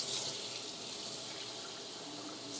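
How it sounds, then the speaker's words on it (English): Hot water runs from a tap into a kitchen sink in a steady, even hiss, close and continuous without speech. "I'm going to get my hot water."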